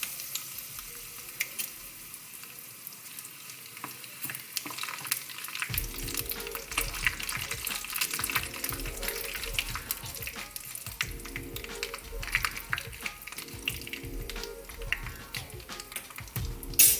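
Dried red chillies frying in hot oil for an Onam sadya-style mango pickle: a steady crackling sizzle that swells louder once they hit the pan, with occasional stirring, continuous and close.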